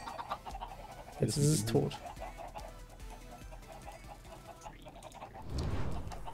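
A Minecraft chicken in the Magic World 2 modpack gives a brief burst of clucks partway through, under someone talking in German over steady background game sounds.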